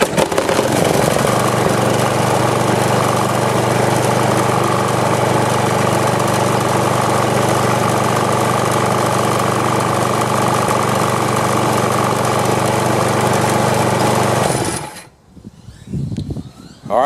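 A Swisher brush trimmer runs loud and steady after its dirty carburetor was cleaned, the small engine droning evenly for about fifteen seconds before it cuts off abruptly into near silence.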